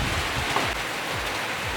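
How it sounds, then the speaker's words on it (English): Heavy rain pours down steadily during a full-on storm, a dense continuous hiss with occasional low rumbles, loud and close throughout with no talking. "it's absolutely pouring it down. It's like a full-on storm."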